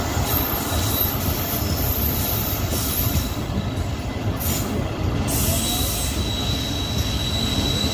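TezGam Express train pulling into a station between Lahore and Raiwind, its wheels squealing loudly in sustained high shrieks over a constant heavy rumble of rolling railcars, close by.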